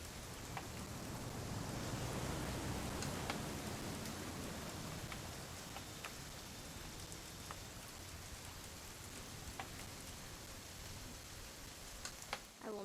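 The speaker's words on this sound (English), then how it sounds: "It's gonna rain the whole weekend, isn't it?" Rain falling steadily in the video game What Remains of Edith Finch, a soft continuous hiss with occasional distinct drips and taps, fairly quiet and even throughout.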